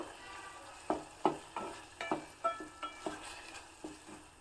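Tomatoes and chopped green chilies frying in oil in a pan for rasam, with a spoon stirring in roughly ten soft, irregular scraping strokes over a faint steady sizzle, close by and with no talking.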